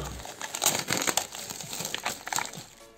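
Crinkly packaging rustles and crackles in irregular bursts close to the microphone as something is unwrapped, with no talking.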